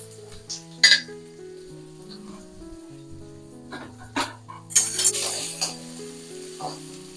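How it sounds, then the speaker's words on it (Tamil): Sliced large onion sautéing in a pan after a mustard-seed tempering with a green chilli, for sambar rice; soft intermittent sizzling and a few utensil clinks from stirring sit beneath steady background music. "வெங்காயம் வதங்கிடுத்து"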